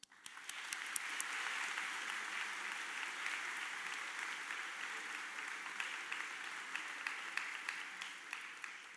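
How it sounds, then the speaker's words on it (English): Audience applause at a Barnegat High School event, a steady wash of many hands clapping that swells in quickly and holds evenly for several seconds, fairly distant and moderately quiet. "everyone deserves a wholesome round of applause"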